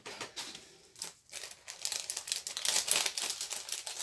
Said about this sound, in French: Je vais venir coller du double face.